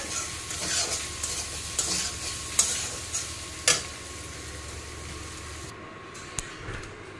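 Ghee goes into a cooking pan for a Bengali chuka dish, and a steady sizzle runs under repeated scraping stirs with a few sharper clinks, close and continuous before quieting near the end.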